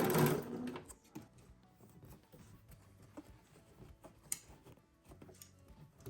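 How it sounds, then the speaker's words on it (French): A sewing machine stitches elastic edge to edge onto a sleeve cuff, making a quiet, intermittent ticking clatter with a louder burst at the start and short pauses in between. "Tu viens coudre bord à bord ta patte de manche."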